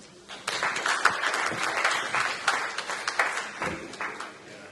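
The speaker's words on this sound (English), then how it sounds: "Please welcome them with a big round of applause" A hall audience gives a big round of applause welcoming two presenters at a non-ferrous metals industry event in India, dense steady clapping rising quickly and sustained throughout at moderate loudness.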